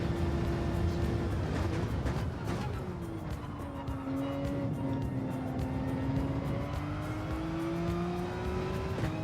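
A Porsche race car engine in a racing video game drives on track, a loud sustained roar whose pitch sweeps down and climbs again through gear changes, with clicks and bumps over it and no talking.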